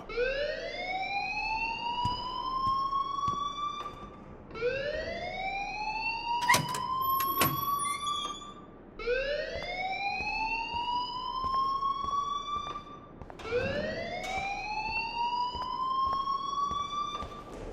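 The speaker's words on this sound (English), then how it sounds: "please turn off that alarm since that's your job" A fire alarm in the video game Life is Strange Remastered wails in four repeated rising sweeps, each a few seconds long, loud and steady, with a brief sharp clatter partway through.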